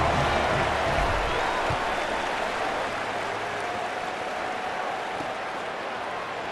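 A large college football stadium crowd roars and claps at a night game in a continuous wash of noise, loud and sustained, easing slightly toward the end.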